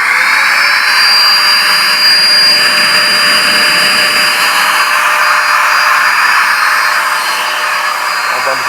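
An Intech Machine HV 400 electric paint spray gun runs its motor close up, a loud continuous high-pitched whine and whoosh held steadily for nearly nine seconds.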